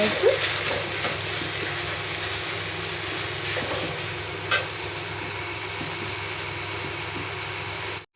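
Masala frying in oil in a pan, a faint continuous sizzle under a low steady hum, with one or two soft clinks partway through.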